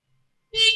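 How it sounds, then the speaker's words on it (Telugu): A single short electronic horn beep from an electric scooter, bright and close, sounding abruptly after a moment of silence. "హార్న్."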